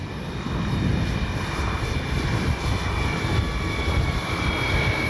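An FMS Ranger 1800mm RC plane flies overhead, its electric motor a steady, continuous whine with airy broadband rush, moderately near and unchanging in level, with no talk.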